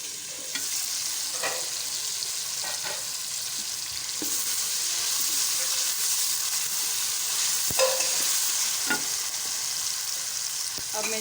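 Tomatoes frying in a pan give a continuous loud sizzle, with occasional clicks and scrapes of stirring scattered throughout and no voices.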